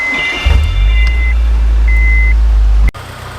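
A Honda S2000 engine cranks and catches, settling into a loud steady idle with a beeping tone sounding over it before the clip cuts off.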